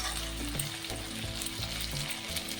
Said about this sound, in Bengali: টমেটো দুটো দিয়ে দিলাম